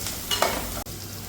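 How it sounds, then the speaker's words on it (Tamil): Onions frying in a pan until golden, a brief burst of steady sizzling with a spoon scrape and a sharp click midway. "இது வந்து நல்லா கோல்டன் ஃப்ரை ஆகட்டும். வெங்காயம் நல்லா வதங்க ஆரம்பிச்சிருச்சு."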